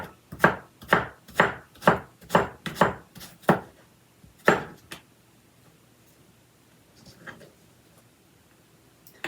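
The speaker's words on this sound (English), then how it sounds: "So I'm just julienne the veggies" A knife julienning vegetables for Korean pancakes on a cutting board: a quick run of about eight sharp, evenly spaced chops, a pause, one more chop, then near silence with faint board handling.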